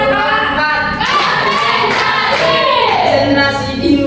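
Classroom pupils clapping together in a patterned rhythm during a micro-teaching session, the claps dense and close, with a teacher's voice and tonal chatter running over them.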